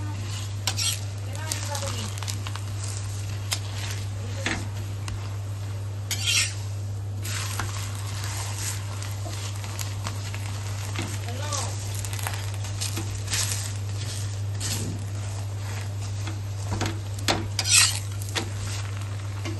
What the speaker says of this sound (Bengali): এবার উল্টে পাল্টে আমি দুটো ভেজে নেব কড়া করে